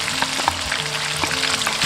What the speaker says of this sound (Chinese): 锅中倒食用油，下入蒜白、姜丝炒香，